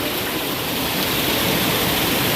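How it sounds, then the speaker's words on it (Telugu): Floodwater rushes loudly and steadily at close range during heavy flooding in Palakonda, a thick, unbroken roar with no speech over it. "పాలకొండలో వరదలు"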